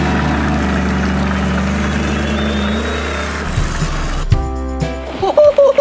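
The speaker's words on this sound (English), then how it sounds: "can you hear their engines are roaring so loud?" Truck engines roar in the dirt, a loud, steady low drone that cuts off near the end, followed by brief clunks and tonal mechanical sounds.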